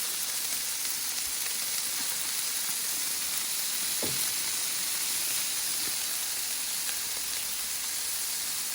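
Burgers sizzle steadily on a Blackstone 28-inch griddle, a continuous broad frying hiss with faint scattered pops and one brief scrape or tap partway through, no talking.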